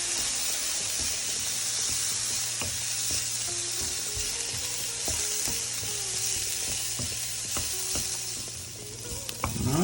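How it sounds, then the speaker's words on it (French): Cauliflower curry vegetables with a drizzle of balsamic vinegar caramelize in a hot pan, a constant close sizzle and hiss broken by occasional utensil taps and stirring scrapes, with no talk. "On va ajouter un filet de vinaigre balsamique sur nos légumes et on va laisser caraméliser doucement."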